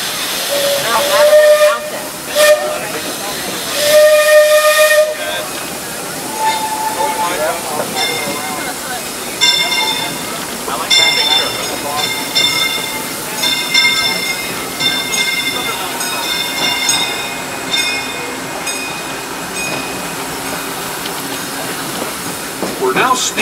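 Disneyland Railroad steam train with loud hissing steam and repeated whistle blasts close by, followed by a sustained wash of steam noise and rolling train sounds as a narrator talks over it.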